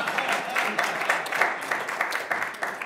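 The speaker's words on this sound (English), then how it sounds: "Yes, applause." Applause from a lunch audience at a networking event, a steady patter of many hands clapping in a room, moderately loud and without talk.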